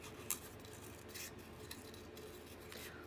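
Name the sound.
scissors cutting photo paper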